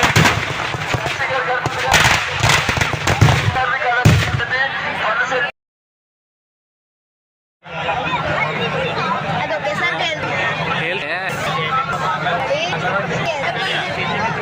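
Dense crackling bursts and pops of firecrackers at a temple festival fill the air, loud and continuous with crowd noise, broken by a couple seconds of silence before the barrage resumes.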